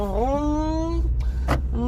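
A voice imitates a car engine starting, a rising hum that settles into a steady drone, followed by a short breathy burst and the start of another rising tone.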